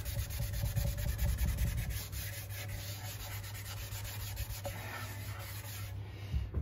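A cloth rubs a thin coat of wood stain onto a wooden Firebird model kit, giving a steady, close, dry scrubbing that goes on without a break and grows slightly softer toward the end.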